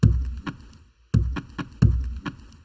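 Chopped sample of a hollow tree being whacked, cut up into a drum pattern: sharp woody knocks with a resonant hollow boom, arranged in three repeating clusters of hits with brief gaps between.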